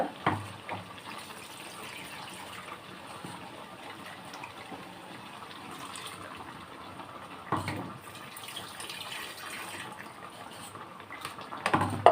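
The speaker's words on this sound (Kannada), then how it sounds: "ಈಗ ಇದಕ್ಕೆ ಸ್ವಲ್ಪ ನೀರು ಈಗ ಸೇರಿಸ್ಕೊಳ್ಳೋಣ" Water poured into a pan of cooking ivy gourd (tondekai) curry with plenty of tomato, a steady, fairly quiet rushing splash that runs for several seconds with a couple of brief louder bursts.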